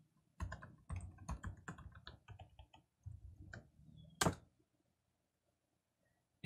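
Computer keyboard typing in short bursts of crisp, close key presses, a quick run of taps followed by a few scattered keystrokes and one louder final press.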